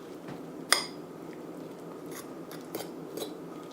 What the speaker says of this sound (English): you can use a fork or chopsticks just to mix the ingredients with the chives